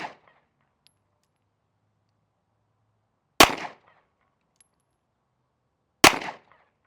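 Two sharp, loud gunshots from a Matrix MX19 pistol, spaced about three seconds apart, each with a short ringing decay into silence.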